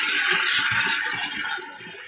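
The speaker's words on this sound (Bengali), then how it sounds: "কালো সর্ষে বাটা আমি হাফ বাটি সর্ষে বাটা দিয়ে দিচ্ছি। ছোট বাটির হাফ বাটি আর একটু জল দিয়ে দিলাম।" Water trickles into a pan holding black mustard paste for a rohu fish curry, a steady close splash and hiss that fades slightly toward the end.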